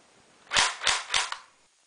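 GSG KSK-1C airsoft rifle firing semi-automatic, three or four quick, sharp snapping shots about a third of a second apart, close and fairly quiet, with no talking.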